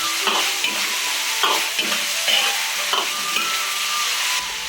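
Thick braised pork rib sauce in a wok over high heat, scraped and stirred with a spatula, giving a steady close sizzle broken by repeated clanking strokes and a soft steamy hiss.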